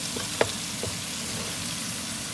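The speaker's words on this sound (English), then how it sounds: "Now we're going to be sauteing the onions." Onions, carrots, celery and garlic sauté in a pot for pot roast after beef browning, giving a steady broadband sizzle with a couple of soft stirring knocks near the start.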